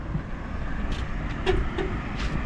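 A bus pulls in and runs at a roadside stop on a journey from Surat to a village: a low, steady engine rumble with faint road noise, fairly quiet and distant, with no voices.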